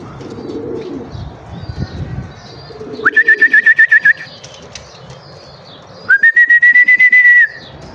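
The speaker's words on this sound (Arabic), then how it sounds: "ندخل ذن الطيور ونرجع وياكم ونراويكم الفرخات" Pigeons in a rooftop loft give soft low coos early on, followed by two clear bursts of rapid rhythmic whistling and fluttering, close and distinct with no talking.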